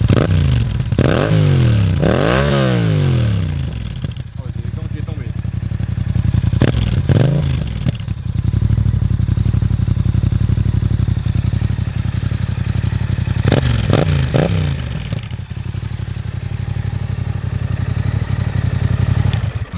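A Yamaha MT-07 motorcycle engine cranks and catches, then idles with a steady rumble, with a few sharp revs rising and falling over it.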